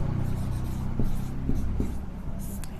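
Chalk or marker strokes on a classroom board during a geometry lesson, a steady rasping scratch with short taps at each new stroke, close and fairly quiet over a low room hum, without speech.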